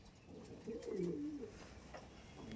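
A close male Andhra pigeon gives a clear rolling coo in a loft, rising and falling once over steady background noise with no talk.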